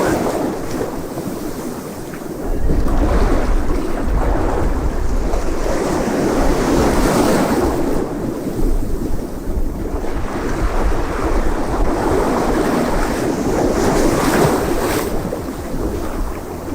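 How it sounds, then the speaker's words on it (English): Sea waves rolling in and washing over a rocky shore, a continuous loud roar that swells and recedes in slow surges, heard close with wind buffeting the microphone and no voices. "So I'm just waiting for the water to retreat"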